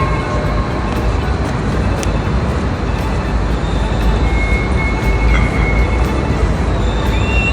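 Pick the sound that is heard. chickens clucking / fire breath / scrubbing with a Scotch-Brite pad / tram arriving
tram arriving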